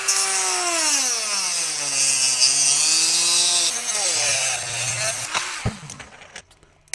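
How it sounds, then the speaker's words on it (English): A Dremel rotary tool with a cutoff disc cuts along a scribe line. Its high, whining buzz rises and dips in pitch as the disc bites, then breaks into short scraping bursts before it stops. "I'm just going to take my Dremel and cut along that"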